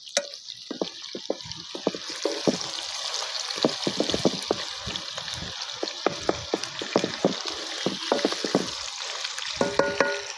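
Food frying in hot oil, a steady close sizzle with constant bubbling hiss and scattered crackles and pops throughout, moderately loud and uninterrupted.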